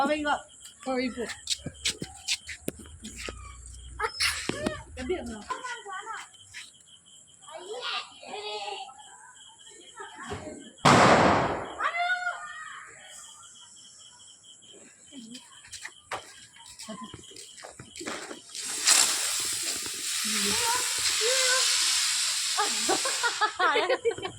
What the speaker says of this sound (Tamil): வயசான பட்டாசு.